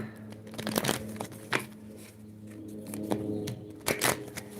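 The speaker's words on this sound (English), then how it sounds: "Get a couple shuffles in here." Tarot cards shuffle in a few soft, close riffling bursts spaced across the moment, set against a faint steady room hum with no voices.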